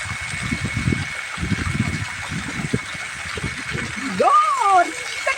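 Water from a newly installed solar water pump runs with a steady rushing hiss, while people talk nearby throughout.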